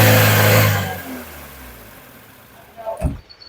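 A Maruti Suzuki Wagon R ZXi with a 1.2-litre four-cylinder engine rated at 89 bhp revs loudly at first and then winds down to a steady low hum, with a short sharp burst near the end.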